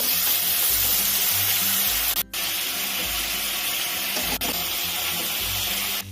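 Jackfruit and prawns fry in oil over a high flame with a loud, steady, close sizzle that runs unbroken apart from two very brief dips.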